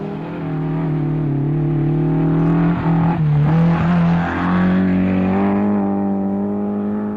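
Rally cars at the 1978 Castrol International Rally of Canberra, a loud, continuous engine drone close by, with the pitch holding steady, dipping briefly and then rising again.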